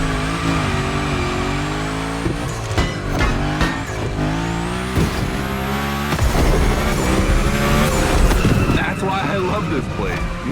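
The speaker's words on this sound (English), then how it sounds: "Go slide his line, just follow his tire tracks" A car in The Crew Motorfest game slides through a gymkhana course, engine revving hard over long, wavering tire squeals that sweep up and down, loud and close, while a voice talks over the action.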